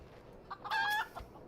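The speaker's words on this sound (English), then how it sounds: "Fucking chicken." A chicken in the Final Fantasy XIV video game gives a single short, bright clucking call. It is close and clear against a quiet background.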